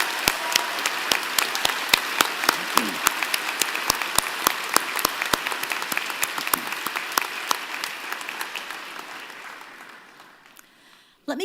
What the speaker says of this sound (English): join me and the platform party in thanking them with a vigorous round of